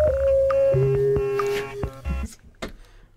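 Closing bars of a song built from recorded bat calls: sustained pitched tones and chirps over a low bass, then breaking into scattered clicks and sharp bursts that fade out.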